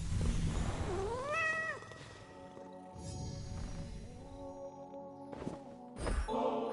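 A cat in Hades 2 gives a rising, drawn-out meow up close, followed by softer purring and chirps over a steady game music backdrop, with a few low thumps.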